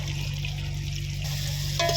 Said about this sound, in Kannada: ಅರಿಶಿನ ಪುಡಿನ ಚೆನ್ನಾಗಿ ಮಿಕ್ಸ್ ಮಾಡಿ ಸ್ವಲ್ಪ ಹಸಿ ವಾಸನೆ ಹೋಗೋವರೆಗೂ ಫ್ರೈ ಮಾಡ್ಕೋಬೇಕು